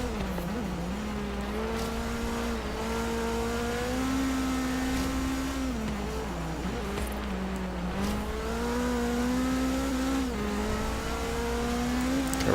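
A car engine races over snow and ice in Forza Horizon 3, revving loud and close with repeated rises and drops in pitch through shifts, a steady low rumble beneath.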